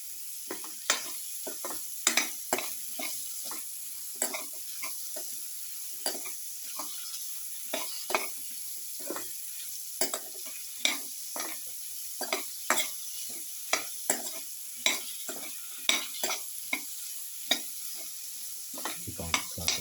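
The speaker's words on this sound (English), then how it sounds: "Keep on sauteing for 6 to 8 minutes." Bottle gourd pieces and carrot with garlic and salt being sautéed in a pan, a spatula scraping and stirring in quick repeated strokes over a soft continuous sizzle, with no talking.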